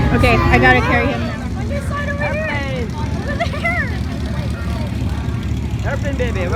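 A propeller airplane drones at an airshow amid crowd babble, its engine tone sweeping up and down in pitch as it passes, with people talking nearby throughout.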